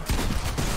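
Rapid gunfire from a Fortnite match, a quick burst of loud close shots packed into under a second.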